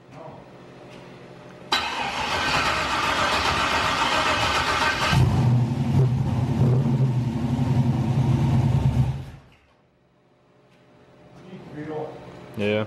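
A stock 5.3 V8 in a Monte Carlo SS roars to life through its exhaust and holds a loud, steady rumbling rev for several seconds, then cuts back, with brief voices afterward.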